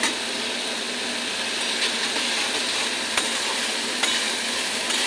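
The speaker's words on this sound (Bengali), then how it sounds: "সর্ষাটা বেশি ভাজা করব না" Mustard spice paste, ground on a grinding stone, fries in a pan for a hilsa fish dish while being stirred, giving a loud, even hiss throughout with a few faint clicks from the stirring and no voices.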